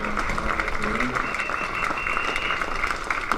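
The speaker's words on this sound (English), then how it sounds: "Just hear the applause here for Eskenazi." Spectators at a Leicestershire v Nottinghamshire County Championship cricket match applaud a century in a steady ripple of clapping, with a commentator speaking over it.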